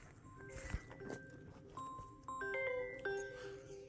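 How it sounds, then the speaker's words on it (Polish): A mobile phone rings outdoors during a mushroom-picking walk, a few rising melodic tones that are faint and brief, coming after soft rustling and footsteps. "Kurde, że telefon dzwoni."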